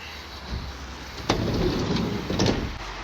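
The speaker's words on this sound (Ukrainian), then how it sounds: "Також відкривається багажний відсік і друга дверка" Sliding side doors and rear cargo compartment doors of a Renault Kangoo Express ZE Maxi electric van opening, with two sharp clunks of latches and door movement over a quiet background, no talking.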